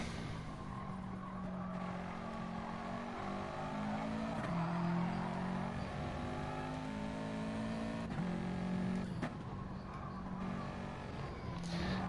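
Race car engine from a racing video game lapping Laguna Seca during qualifying, a steady droning roar with shifting pitch as it revs, brief tire squeal near the corners, continuous and up close with no talking.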